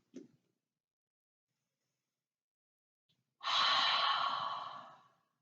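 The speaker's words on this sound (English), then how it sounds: "5 big exhales." One long, loud exhale during a basic yoga session, a strong breathy rush lasting about two seconds and slowly tapering off, preceded by a brief faint breath sound.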